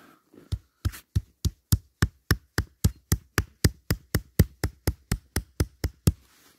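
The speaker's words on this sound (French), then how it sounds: "Où est-ce qu'il est mon marteau? Il est là." A hammer strikes the spine of a bushcraft knife in a steady run of about twenty sharp, evenly paced knocks, close and loud, splitting wood.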